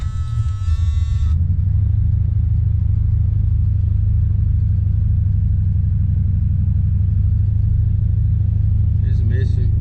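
A 1979 Chevrolet Malibu coupe's engine runs steadily while held on the gas with a misfire, a loud, close, low rumbling drone that continues throughout.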